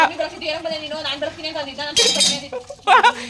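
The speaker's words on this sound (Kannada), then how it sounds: "ಕೂರಿಸ್ಕೊಂಡು ನೀಟಾಗಿ ಪಾತ್ರೆ ಬೆಳಗದ ಹೇಳ್ಕೊಡ್ತಾ ಇದ್ದಾಳೆ ತಮ್ಮನಿಗೆ" Metal pots and utensils clink and scrape while dishes are scrubbed, irregular knocks and rattles close by with brief brighter clatters, and a voice talks over them.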